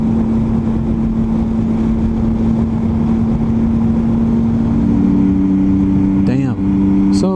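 A Triumph Tiger motorcycle cruising along a road, its engine giving a steady loud drone with constant wind rush throughout, and the pitch shifting briefly near the end.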